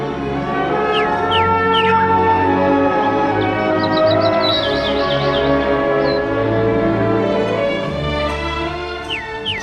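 Birds chirp and twitter in short, scattered calls in a deep mountain forest. The calls sit over a steady, sustained tonal backdrop, and no one speaks.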